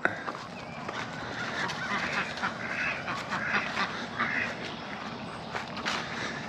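A flock of ducks at a pond honks and quacks continuously nearby, a busy overlapping chorus of calls with no pauses.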